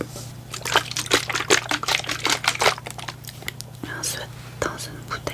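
Water trickles and pours into a homemade face care mixture, soft and close, in uneven dribbles mixed with small clicks and whispered sounds from nearby.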